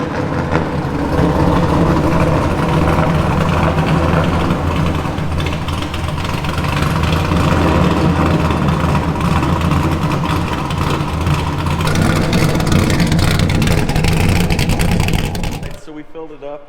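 A NASCAR truck engine runs continuously and loud after an oil change, a steady heavy rumble with slight swells in intensity before cutting off near the end.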